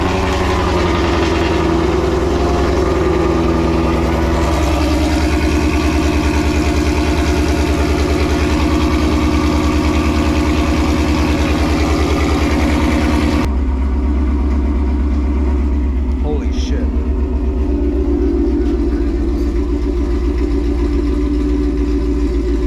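A Chevrolet Corvette engine idling, a steady loud low rumble that holds evenly throughout, then drops to a smoother, quieter idle partway through, with no talking over it.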